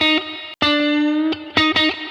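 Distorted electric guitar notes bent upward a half step to the blue note, a few sustained bends with short breaks between them, loud and close.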